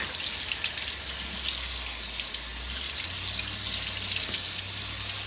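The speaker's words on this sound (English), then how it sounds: "it doesn't take long to rinse them off" Canned beans are rinsed in a strainer under a running kitchen faucet, a continuous close hiss of splashing water with a low drone in the background and no talking.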